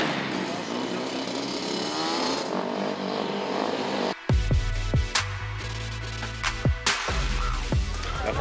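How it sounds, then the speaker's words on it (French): Motorbikes belonging to neighbourhood friends rev and roar nearby. A sustained engine drone gives way to sharp, repeated throttle blips and loud pops, all close and dominant. "Les potes du quartier sont venus avec leur moto."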